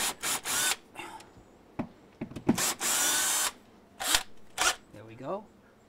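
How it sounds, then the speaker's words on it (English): Power drill boring pilot holes for a metal door jamb armor hinge shield, several short whirring bursts with pauses between them, close and loud, with a person talking in between. "we're gonna drill some pilot holes"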